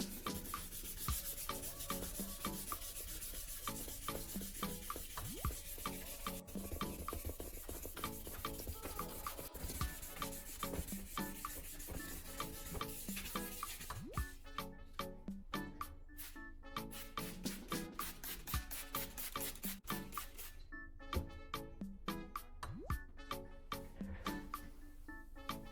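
Old yellowed car headlight being wet sanded with P1200 sandpaper under light pressure, a long run of quiet, rhythmic back-and-forth rubbing strokes heard close up with no talking.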